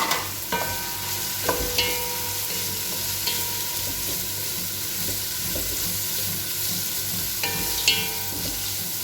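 Cabbage stir-fried in a pan for a rice and vegetable dish, giving a steady close sizzle with a few sharp clinks of the utensil against the pan and no talking.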